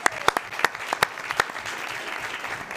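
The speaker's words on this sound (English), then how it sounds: "So again, y'all give them a round of applause." A school board meeting audience claps for a high school mariachi band and its director, with sharp individual claps standing out at the start before settling into a steadier, moderate patter.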